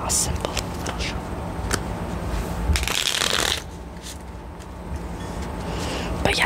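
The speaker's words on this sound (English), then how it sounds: "Just a simple little shuffle." Playing cards are shuffled by hand during a quiet solitaire game, with riffling and flicking bursts, a louder rush midway, then softer card handling, all close up, with a voice faintly present.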